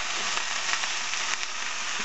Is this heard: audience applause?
no